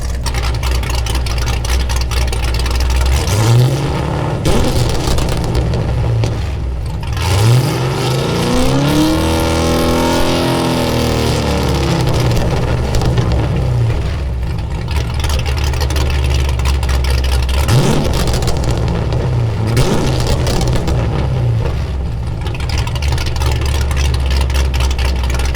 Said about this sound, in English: So let's hear some revs.